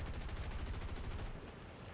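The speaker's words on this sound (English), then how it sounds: "he turns around and fire the guns" Aircraft guns hammer in a rapid, continuous burst from a P-80 jet in War Thunder, loud and close, running about a second and a quarter and then cutting off to the hum of the engine.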